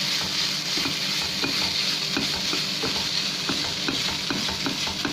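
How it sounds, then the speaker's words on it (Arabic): Tomatoes frying in a pan with a little oil for Egyptian moussaka, stirred over and over, with a constant close sizzle and rhythmic scraping strokes of a spoon, no voices. "هفضل أقلب أهو، وطي بقى شوية عشان إيه، على ما الطماطم تعمل شوية"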